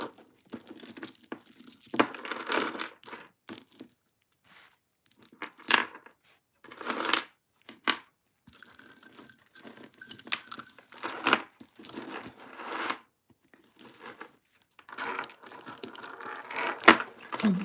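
Wet paper towels being crumpled and handled during the cleaning of vintage and antique jewelry, giving bursts of soft crinkling and tearing-like rustle with short pauses between, close and fairly quiet, no talking.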